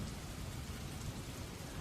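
Steady thunderstorm rain pours down as a dense, even hiss of drops on surfaces with a low rumbling undertone, faint and continuous, with no voices.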